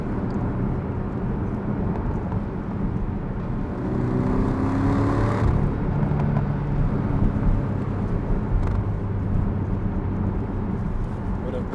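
Porsche 718 Cayman GTS 2.5 engine droning steadily with a rising rev sweep midway, heard from inside the car under road noise, with voices talking over it.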